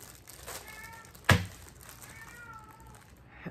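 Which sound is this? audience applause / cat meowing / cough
cat meowing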